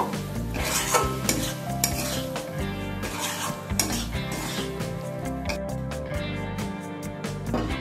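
Banana stem and prawn curry with ghee just added, stirred in a metal pan: repeated scraping and clinking of a spatula against the pot over a low sizzle, fairly close and busy, with no talking.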